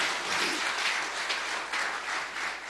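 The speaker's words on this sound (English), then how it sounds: "let's give a round of applause for his memory" Applause from a gathered crowd honouring the late Dominican icon Felix Henderson, a steady wash of clapping held for a few seconds at moderate distance, no voices over it.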